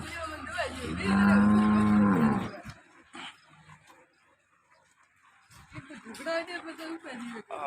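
A local Banaskantha cow, freshly calved, gives one long, loud low moo close by, followed by quieter background sounds and people talking.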